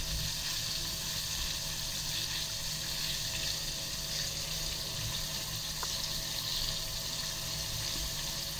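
Calamari seasoned with pepper, salt and curry powder frying in hot oil, giving a steady, dense sizzle with constant bubbling crackle throughout and no talking.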